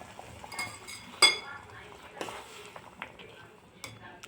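A spoon stirs drumstick (shevga) masala in a metal pan, with faint scraping and a few light clinks, one sharper knock, soft and close under quiet surroundings.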